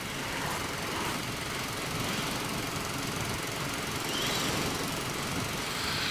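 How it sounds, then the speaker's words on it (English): A BSA Bantam 350 motorcycle engine runs steadily at close range, a loud, buzzy two-stroke rattle with a rapid knocking pulse and no voices. "Bike's running absolutely fine,"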